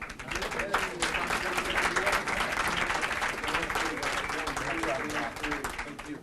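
Audience applause at a nonprofit grants event, steady dense clapping from a crowd that holds for several seconds with voices mixed underneath.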